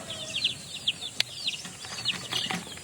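Backyard chickens and chicks cluck and peep in a rapid, uneven series of short calls, fairly close, with a sharp click partway through and no talking.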